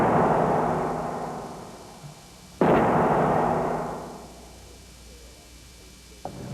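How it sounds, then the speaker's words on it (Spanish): A Boeing 747 wing breaks in a structural strength test with a sudden loud crack and a long rumbling decay, following an earlier fading roar and ending in a smaller sharp burst. "Cuando sucede, es una escena para observar. Quiero decir, suena como una explosión."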